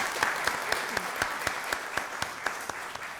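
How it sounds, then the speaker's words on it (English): Clapping in a county board of commissioners meeting room, with a few sharp, evenly spaced claps standing out over a softer spread of hands from a small crowd. "Let's give our DA a round of applause."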